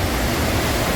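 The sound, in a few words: Bhedaghat waterfall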